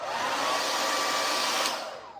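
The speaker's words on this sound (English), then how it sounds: "Keep the dryer on low and on warm." A hair dryer running on a low, warm setting blows with a steady, close whooshing roar for about two seconds before cutting off, with no one talking.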